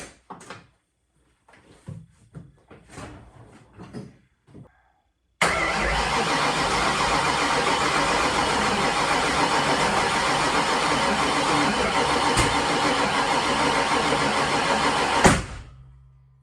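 A 408 Windsor V8 on its first startup attempt, cranking and catching into a loud, steady run for about ten seconds, then cutting off abruptly; a few quiet shuffles and clicks come before it.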